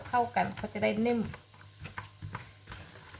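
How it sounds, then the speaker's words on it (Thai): Steamed sticky rice being stirred in a pot, with soft, faint scraping and clicking after a short stretch of talk at the start, under low background hum. "เดี๋ยววิจะคนรอบนึง"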